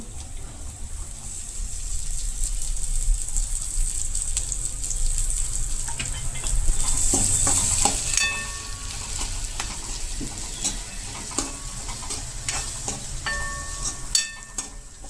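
Chopped onions hit hot oil in a pan and sizzle with a steady, loud hiss, overlaid by scattered clinks and scrapes of a utensil stirring close by.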